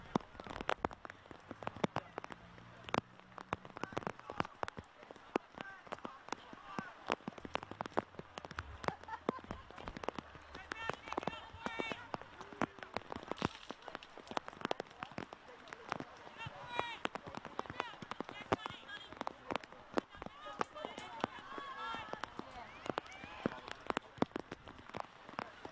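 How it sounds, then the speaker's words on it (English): Steady rain pours down on an outdoor football ground during a women's league match, a dense, constant hiss of drops that fills the scene throughout, with faint commentary voices underneath. "You can hear the rain coming down."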